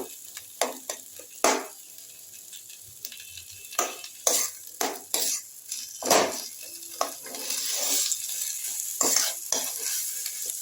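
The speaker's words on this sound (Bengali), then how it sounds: "ওটা আমি এবার পেঁয়াজের সঙ্গে কারি পাতা, সর্ষে সবের সঙ্গে একটু ভাজা ভাজা করে একটা পুর তৈরি করে নিচ্ছি।" An onion, curry leaf and mustard vegetable filling for oats kachori fries in a pan. Intermittent scrapes and stirs rise over a soft, steady sizzle.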